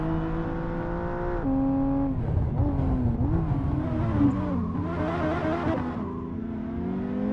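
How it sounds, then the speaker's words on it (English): A Lamborghini drifting on a race track, its engine whining and revving up and down with shifting pitch at a steady, moderate distance. "Never seen a Lambo drifting before?"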